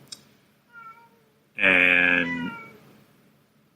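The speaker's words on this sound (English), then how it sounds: "stop meowing" A cat meows several times close by: a soft brief call, then one long, loud, drawn-out meow that trails off, with a single spoken word at the start.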